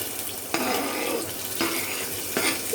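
A ladle stirs chopped ingredients in a cooking pot with ghee, making three soft scraping strokes against the metal over a faint background sizzle.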